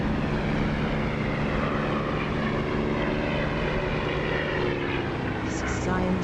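Aircraft engine in the DCS flight simulator game, a steady, loud propeller drone with a rough low rumble that holds unchanged throughout, with a speaking voice faintly in the mix.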